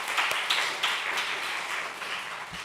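A young adult congregation at a Sunday church service gives a short burst of applause, brisk clapping with a few sharper individual claps, moderately close and fading within a few seconds.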